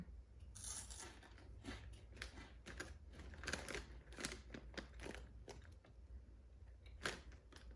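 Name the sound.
crunching a ranch-flavored snack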